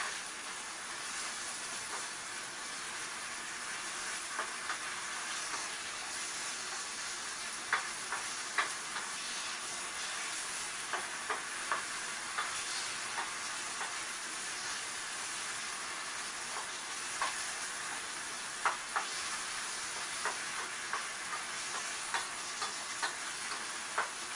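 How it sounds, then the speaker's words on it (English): Oriental goulash sizzling in a pan as it is stirred constantly, a steady quiet hiss dotted with faint scraping ticks throughout, close and without talk. "Keep stirring constantly."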